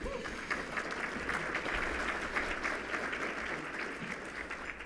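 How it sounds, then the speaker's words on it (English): Luncheon audience at a roundtable gathering applauding, a steady wash of many hands clapping throughout, soft and somewhat distant, with no talk over it. "I think that deserves a round of applause."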